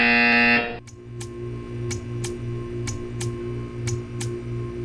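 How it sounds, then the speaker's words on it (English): A loud sustained electronic buzzer tone in the video game Portal 2 cuts off abruptly, followed by a steady low hum with evenly spaced sharp ticking clicks. "You will hear a buzzer."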